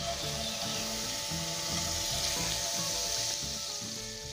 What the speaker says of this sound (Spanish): voy a agregar la margarina